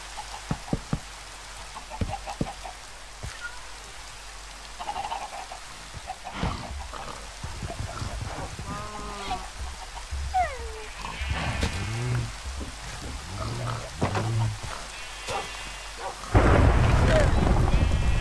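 Rumbling thunder and steady rain in Minecraft, with scattered knocks and short tonal effects in between, building to a heavy roar of rain at the end.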